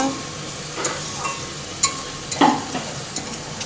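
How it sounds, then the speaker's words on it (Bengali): Sliced potatoes fry in a pan with a soft, steady sizzle, broken by a few sharp clinks and scrapes as they are stirred. "এইদিকে একটু আলু ভাজা করছি"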